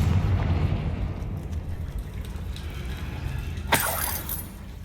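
Confringo explosion spell in Hogwarts Legacy, a sharp bright blast cracking out late over a steady low rumble of game ambience, with crackling debris trailing after it.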